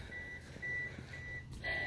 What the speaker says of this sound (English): That beeping's about to drive me insane.